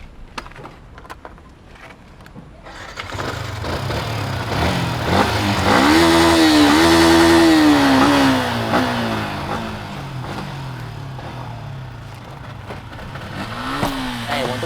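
A motorcycle engine idles, then revs up loudly and holds, its exhaust note rising and falling up close before settling back.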